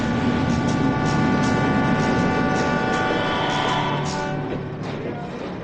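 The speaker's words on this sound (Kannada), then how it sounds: "ಸಂಧ್ಯಾ ಪ್ಯಾಸೆಂಜರ್ ಟ್ರೈನ್ ನಲ್ಲಿ ಬೆಂಗಳೂರಿಗೆ ಬರ್ತಾ ಇದ್ದಾಳೆ." A loud, continuous rumble of a moving passenger train with droning engine tones and rattling, steady throughout and easing slightly near the end.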